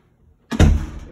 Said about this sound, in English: close that door again.